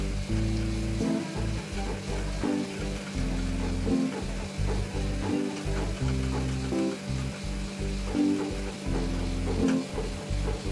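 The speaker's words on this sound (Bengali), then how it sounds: "যত কষাবো তত রান্নাটা ভালো হবে।" Masala for an aar fish curry sizzles loudly as it is sautéed, with rhythmic stirring scrapes and clanks against the pan recurring about every second throughout.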